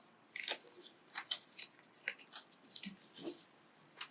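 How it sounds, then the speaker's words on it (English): Paper is creased and folded for an origami dragon, a series of soft crisp crinkles and sharp presses in uneven bursts, close and quiet, with no talking. "you're just going to fold that in half"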